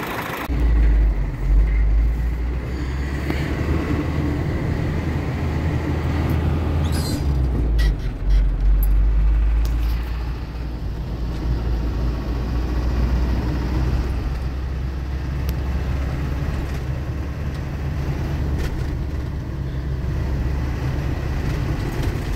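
A used Isuzu 4HK1 diesel engine, said to burn oil yet pull strongly, idles with a steady low rumble throughout and swells briefly as it is revved, loud and close with no talk.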